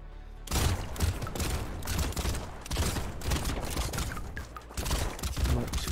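Rapid, continuous automatic fire from a ranged character in the video game Brotato, dense overlapping shots close and loud with only a brief gap near the start.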